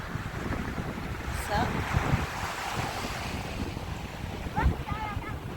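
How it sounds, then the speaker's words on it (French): Wind buffets a microphone by the sea at sunset on a slate-strewn shore, a steady rumbling roar with gusts over faint surf, while someone speaks briefly. "Désolé, il y a un petit peu de vent."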